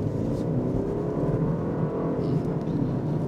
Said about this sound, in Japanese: 今料金所から加速をしていきます。